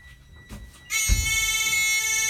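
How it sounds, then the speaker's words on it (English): A loud electronic bus alarm buzzer suddenly starts and keeps sounding steadily after a few soft thumps. "The alarm works."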